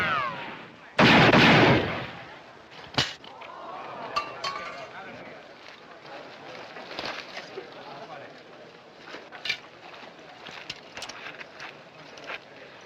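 Gunfire from a drawn revolver in a western film shootout: one loud sharp blast near the start, then a further crack and scattered clinks and thuds, with voices speaking.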